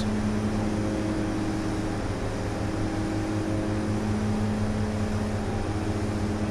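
Engine drone of a DHC-6-300 Twin Otter in flight in the FSX flight simulator, a steady, unbroken hum with a low tonal whine that runs at constant loudness throughout, with no voices.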